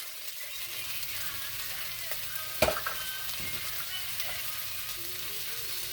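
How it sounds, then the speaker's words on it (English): Salt fish frying in a pan for stewed salt fish, giving a steady close sizzle throughout with a single sharp clink near the middle. "I'm going to let it fry for a minute or two"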